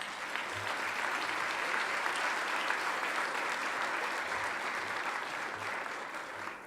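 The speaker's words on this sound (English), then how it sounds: "please join me in giving all these organizations a big round of applause" Sustained audience applause at an annual air-quality summit honoring sponsor organizations, a steady wash of many hands clapping at moderate distance that holds evenly throughout, with no talking over it.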